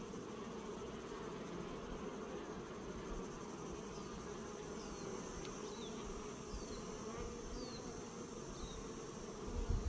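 Honeybees buzz steadily around an open hive holding the queen, a dense, even hum close by with occasional individual bees droning past, continuous for ten seconds.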